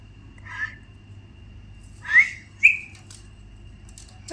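An Alexandrine parakeet gives a few short, separate whistled chirps against a quiet background hum, with a soft call first and then two sharper, louder whistles close together near the middle.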